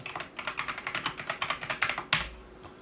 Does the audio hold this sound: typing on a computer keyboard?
yes